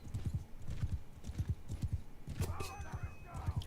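Cavalry horses' hooves beat in a fast, rhythmic galloping clip-clop during a Mount & Blade II: Bannerlord skirmish, with a brief neigh-like sound partway through and faint voices underneath.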